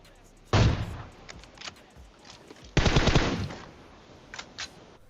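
Automatic gunfire in the mobile battle royale game PUBG Mobile: two loud, sustained bursts of rapid shots with a few scattered single shots between them.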